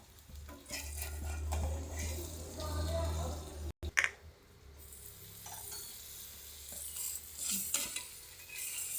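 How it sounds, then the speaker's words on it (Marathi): A vegetable sandwich toasts in butter in a pan, giving a steady close sizzle with occasional scrapes and a brief clatter partway through. "बटर हे करून आपण छानपैकी याला असं गोल्डन कलर येऊपर्यंत भाजून घेऊया"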